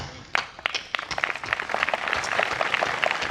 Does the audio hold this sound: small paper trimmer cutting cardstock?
no